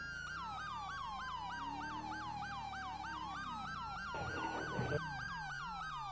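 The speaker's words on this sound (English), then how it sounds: "You can go ahead and kill your sirens." Rapid yelping police siren in GTA 5, fast repeating pitch sweeps held loud and close throughout, with a brief burst of rushing noise partway through.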